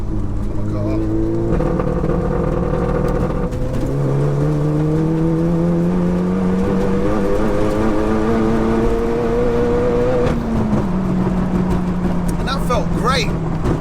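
A stage 4 Seat Leon Cupra accelerating hard from a standing start, its engine note climbing steadily through the gears with a brief shift dip near the end, loud and heard from inside the car over road and wind roar.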